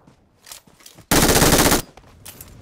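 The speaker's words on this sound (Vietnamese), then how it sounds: "Súng rồi." A short, loud burst of rapid machine gun fire, about three-quarters of a second of continuous rattling shots, stands out against quiet background noise and faint scattered sounds.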